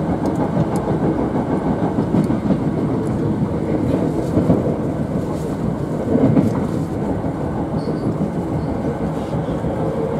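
A Hankyu 3000 series train passes on the Kyoto Line, giving a steady, rumbling roar of wheels and cars that stays loud throughout with faint rhythmic clatter, heard from a moving train with no talk.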